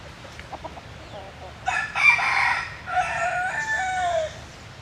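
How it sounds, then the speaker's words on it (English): A rooster crows loudly and close among chickens at botanical gardens, a long drawn call after quiet ambience, with clucking around it. "All the chickens."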